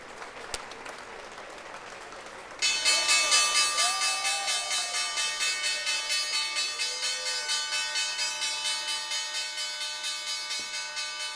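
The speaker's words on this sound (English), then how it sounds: "our favorite tradition here at the NYSE, S&P Global doing the honors for the closing bell." The NYSE closing bell rings loudly and continuously in a steady rapid pulse on the trading floor, starting abruptly after a couple of seconds of crowd murmur and applause, with the floor noise continuing beneath it.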